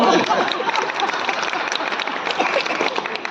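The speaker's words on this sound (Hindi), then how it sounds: "चलो एक बार ताली बजाओ।" A crowd claps together at a Saraswati award ceremony, producing a short burst of dense, even applause that carries at a steady loudness before easing slightly at the end.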